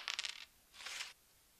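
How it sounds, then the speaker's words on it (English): A small coin dropped for a Foley recording: a quick cluster of bright metallic bounces and rattles, followed by a short ringing spin-down, faint and close with nothing else around it. "things like dropping a coin"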